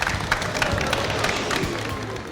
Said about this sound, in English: Can we have a big round of applause for these fine gentlemen, please?